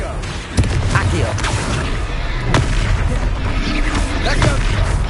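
Repeated booming fire-spell blasts from the Confringo charm in the video game Hogwarts Legacy, loud and punchy over a busy battle soundscape, with several sharp explosive hits across a few seconds.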